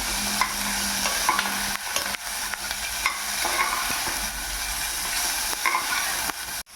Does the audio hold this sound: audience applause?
no